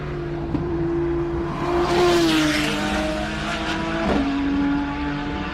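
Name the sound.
race car on a hillclimb run at Simola Hillclimb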